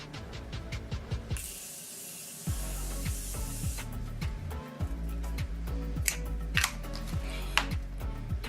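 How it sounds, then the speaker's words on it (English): A Morphe Continuous Setting Mist spray mists in one long hissing burst lasting about a second, surrounded by close handling clicks, taps and rustles. "So I'm going to use the Morphe Continuous Setting Mist"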